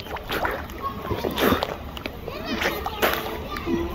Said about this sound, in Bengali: বৃষ্টির ভিতরে আমি চলে আসছি মধ্যখানে।